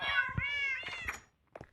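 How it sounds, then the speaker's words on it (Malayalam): A domestic cat meows several times close by in a room, a couple of drawn-out meows followed by a short, quieter one after a brief pause. "എൻ്റെ ആഫ്രിക്കൻ ക്യാറ്റ്,"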